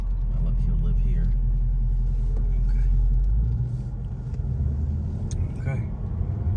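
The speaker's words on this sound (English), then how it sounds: "I'm gonna let this car pass us, truck pass us." A car rolls along a quiet rural road with a heavy low engine rumble that eases as a truck passes close by, steady road noise throughout.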